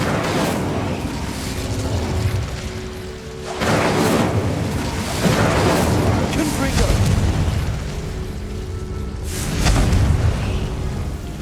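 Fiery explosions from the Incendio spell in the game Hogwarts Legacy, several loud whooshing booms arriving every couple of seconds, each with a rumbling tail.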